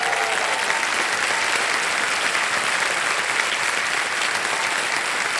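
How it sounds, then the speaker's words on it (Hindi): Studio audience applause on a televised quiz show, steady dense clapping from a large crowd that holds at an even level for several seconds with no voices over it. "तालियां बज जाए इनके लिए।"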